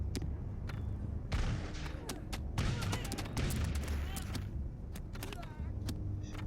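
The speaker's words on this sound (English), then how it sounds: "we're getting shot by the riflemen, the remaining riflemen" Riflemen in the Totally Accurate Battle Simulator video game fire rapid, scattered gunshots, a busy crackle of overlapping shots at moderate loudness over a low rumbling game background.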